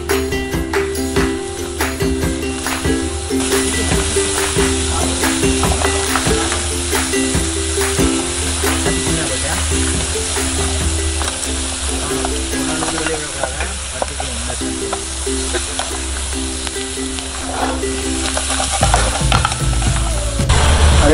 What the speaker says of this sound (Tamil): இதை கொஞ்சம் பொரிய விட்ட பிறகு தான் இந்த ஃப்ரை பண்ண நண்டை அதை ஆட் பண்ணுங்க